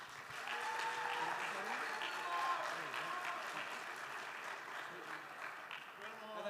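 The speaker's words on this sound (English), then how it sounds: "So let's give them a big round of applause here." A crowd at the GCU Canyon Challenge gives honoured vendors a sustained round of applause that stays fairly even for several seconds, with some voices mixed into it.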